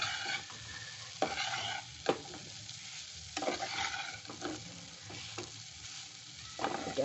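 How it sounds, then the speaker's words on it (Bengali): Sweet vermicelli for zarda semai gets stirred in an uncovered pan, with irregular bursts of dry scraping and rustling, a few sharper knocks, quiet and close throughout with no talk. "এটা ঢাকা খুলে একটু নাড়িয়ে নিচ্ছি"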